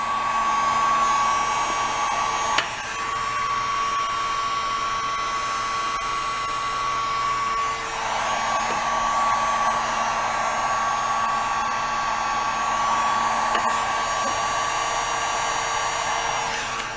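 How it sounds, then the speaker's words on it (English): A heat gun blows hot air to dry a part while an ATV is being modified, making a loud, steady whooshing drone with a faint whine that runs without a break. "Get that to dry up a little bit with the heat gun."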